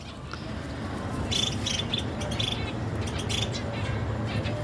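Birds in an open aviary reserve with trees, giving sharp high chirps and tweets in scattered bursts over a constant background hum of insects.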